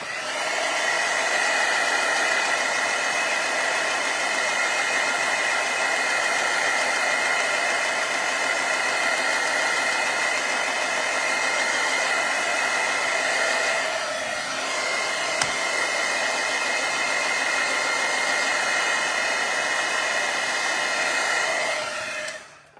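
A hair dryer runs steadily and loudly for over twenty seconds as it dries a handmade gift bag, with a constant whine and only a brief dip near the end before it shuts off.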